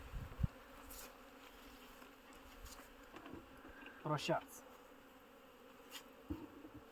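Honeybees buzz steadily in the background while a person speaks briefly, with a louder buzzing pass near the middle.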